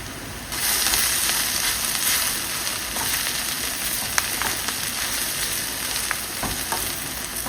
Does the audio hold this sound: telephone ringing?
no